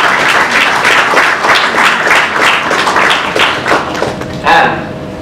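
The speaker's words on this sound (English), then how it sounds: "A round of applause for Abhideya." Dense, loud clapping from an audience at a lecture event, sustained for about five seconds with a slight tapering near the end.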